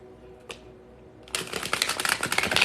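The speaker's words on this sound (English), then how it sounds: "While I shuffle these cards" Tarot cards being shuffled by hand: a brief soft riffle, then a quick rapid run of papery flicks and snaps, close and fairly quiet, with no voices.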